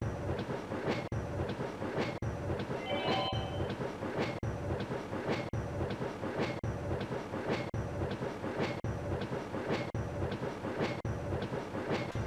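A train rolls steadily along the track in a Namco arcade train game, with a continuous rumble and regular clickety-clack beats at an even rhythm and a brief squeal partway through.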